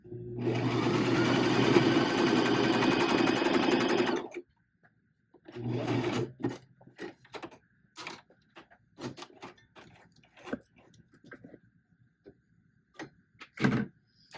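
Sewing machine stitching along the serged edge of a tee shirt, running in one loud continuous burst, then a shorter run, followed by scattered clicks and handling taps.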